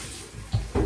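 A short, close burst of water running weakly from a tap, splashing unevenly.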